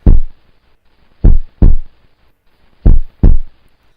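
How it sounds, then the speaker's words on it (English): Heartbeat sound effect in a quiz video: loud, deep thumps in double-beat pairs repeating at a steady rhythm, close and alone. "I think the sound is kind of cool with like the heartbeat"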